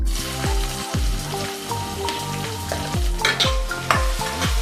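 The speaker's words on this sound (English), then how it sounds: "now the oil seems to be hot enough, and in this I'll add nearly 2 pinches of kasturi methi and 1 medium sized chopped onion" Chopped onion and kasturi methi frying in hot oil, giving a loud, continuous sizzle with crackling bursts and some stirring, with no voices present.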